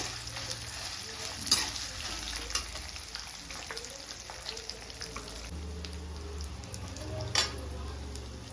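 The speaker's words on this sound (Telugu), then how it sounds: "ఒట్టి మిరపకాయలు కూడా ఇందులోనే వేయాలా. ఇది కూడా మంచిగా వేయించాలి." Dried red chillies fry in oil for moringa leaf chutney, giving a soft steady sizzle with occasional clinks of a spoon stirring in the pan, and a voice talking faintly.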